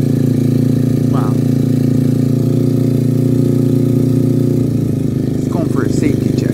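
A 1978 Honda GL1000 motorcycle engine idles loudly and steadily nearby, a smooth low rumbling drone throughout, with brief voices faintly heard over it.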